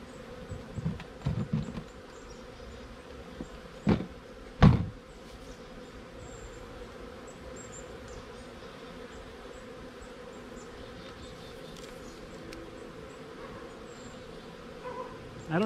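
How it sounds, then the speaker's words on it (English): Honeybees hum at their hive in a faint, steady drone throughout, broken by a few soft knocks and bumps early on. "I don't know if you can hear them buzzing,"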